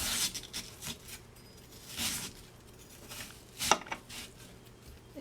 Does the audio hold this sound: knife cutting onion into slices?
yes